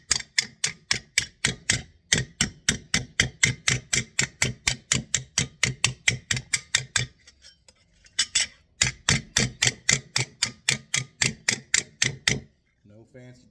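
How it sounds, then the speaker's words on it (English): A rounded hammer taps sheet metal on a Chevrolet C10 truck cab corner in a steady, rapid run of sharp metallic blows, breaking off briefly before a second quick burst, loud and close. "This hammer's a little more rounded, so it's a little easier to do it with."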